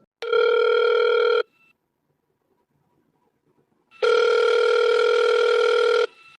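A cartoon telephone rings for an incoming call: two bright, buzzy electronic ring bursts, the first about a second long and the second about two seconds, separated by a quiet pause.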